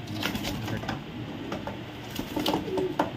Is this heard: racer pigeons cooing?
yes